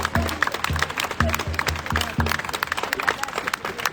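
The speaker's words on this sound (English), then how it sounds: "Big round of applause for Tani" A crowd at a Free Palestine rally applauds with dense, uneven clapping scattered across the whole stretch, with voices calling out underneath.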